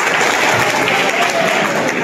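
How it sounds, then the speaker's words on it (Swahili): An audience gives loud, continuous applause with mixed crowd noise, a dense wash of clapping that stays close and steady throughout, with some voices mixed in. "Wow, makofi."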